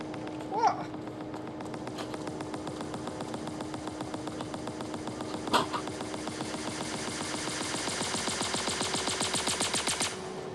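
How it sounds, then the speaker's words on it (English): Gunfire aimed at the player in the space game Star Citizen, long runs of rapid automatic shots rattling steadily, building louder toward the end, with a couple of sharper bursts earlier. "someone's trying to shoot at me!"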